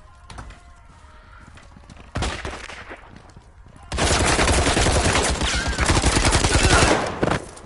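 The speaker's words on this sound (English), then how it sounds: "All this firing happening." Gunfire in the video game Firewall, with sparse shots at first, then a loud burst, then sustained rapid bursts of automatic fire for several seconds.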